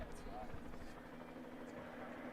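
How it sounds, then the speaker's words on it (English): A helicopter circles over the Post University campus during a softball game, its broad, steady rotor rumble holding at a constant moderate level throughout. "Helicopter keeps circling around the campus here at Post University."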